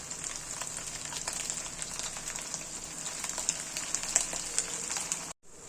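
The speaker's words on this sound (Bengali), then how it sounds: "ম্যারিনেট করা চিকেনগুলো এবারে সব দিয়ে দেবো, এরকম করে তেলের মধ্যে দিয়ে এবার ভেজে নেব।" Marinated chicken strips frying in hot oil give a continuous, even sizzle with fine crackling pops, cut off abruptly near the end.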